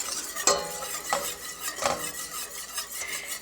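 A whisk stirs a thick gumbo roux in a pot with soft continuous scraping and three louder strokes spread through the stretch, all fairly quiet, with no voices.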